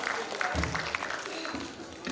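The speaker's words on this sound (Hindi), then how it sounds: "तालियां बजती रहें, तालियों में कमी ना हो।" Audience applause fills a hall at a homoeopathy conference as speakers are called onto the stage, a steady moderate patter of many hands with a few low murmurs underneath.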